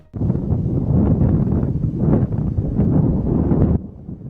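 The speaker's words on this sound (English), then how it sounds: "Powerful Santa Ana winds are whipping up flames in Southern California." Strong Santa Ana winds roar during the Southern California wildfires, a loud, steady, broadband rush with gusty swells that drops to a softer blow near the end; no voices.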